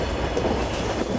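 Vande Bharat Express trains rumble past in a railway simulation game, a continuous close rolling clatter of wheels over track with a dense, steady rhythm throughout.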